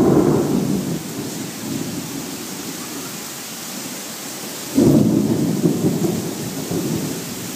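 Evening thunderstorm with rain pouring down hard outdoors, a dense steady roar of rain broken by two heavy rumbles of thunder near the start and again after a few seconds, loud and close, no talk.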